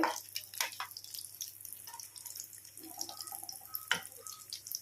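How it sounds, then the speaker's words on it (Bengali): Mughlai paratha stuffed with potato and egg frying slowly in a pan over low heat, giving a faint, steady bed of soft sputtering with a few sharper isolated pops and drips. "তাই লো হিটে আমি ভাজছি একটু সময় লাগবে"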